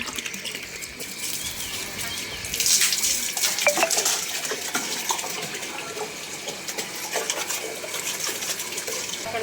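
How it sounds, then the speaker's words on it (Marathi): Steady rushing of tap water pouring continuously into a container, supplied by a motor pump, close and fairly loud, with a faint voice in the background. "हे बघा नळाला पाणी आलेलं आहे, मोटर लावलेली आहे"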